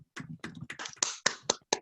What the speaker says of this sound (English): Virtual clapping.